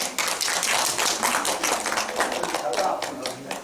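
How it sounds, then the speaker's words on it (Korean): An audience of professors at a university teaching workshop bursts into brisk, dense clapping. The applause holds steady for a few seconds in the room, with voices mixed in. "박수 한번 주십시오."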